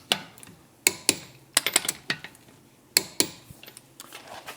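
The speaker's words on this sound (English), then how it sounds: "Listen for the click if you have a click-type torque wrench" A click-type torque wrench snaps out a series of sharp metallic clicks while tightening wheel lug nuts during a seasonal winter tire changeover, the clicks coming in irregular clusters, close and fairly crisp.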